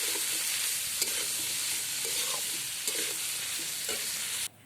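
Fish pieces coated with turmeric and salt fry in hot oil with a steady, fairly quiet sizzle, broken by a few light stirring knocks.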